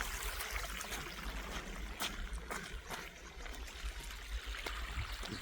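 Dirty sewage water flowing steadily out of a street manhole in a residential neighbourhood, a continuous close trickling and gurgling wash with scattered splashy clicks throughout.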